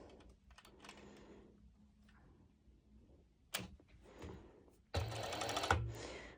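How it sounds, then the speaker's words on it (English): A serger sewing machine stitches elastic onto bikini fabric in short bursts of fast, close mechanical whirring, with handling taps between runs and a louder, busier run at the end. "next I'm going to my serge machine, and I will be adding elastic like that"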